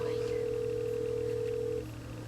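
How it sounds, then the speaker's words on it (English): A phone call ringing out: one steady electronic ringback tone held for nearly two seconds and then cut off, over a low constant hum. "Okay, it's dialing."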